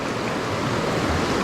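Fast, deep river current rushes through rocky pocket water as a steady, broadband roar of churning water, close and continuous with no break.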